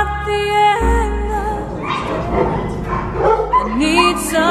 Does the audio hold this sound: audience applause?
no